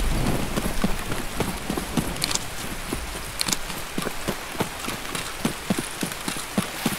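Steady rain patters in the video game Escape from Tarkov, with a dense close hiss and a regular run of soft ticking drops; no clear thunder comes through.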